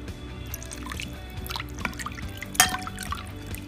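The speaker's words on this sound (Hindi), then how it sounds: "अब हम इसमें पानी डालेंगे।" Water drips and trickles into a bowl of chutney for pani puri, with small splashes and one brief louder splash.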